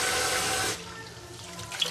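Water from a kitchen tap runs steadily over raw chicken, a loud close splash that softens partway through as the stream is interrupted, with no talking.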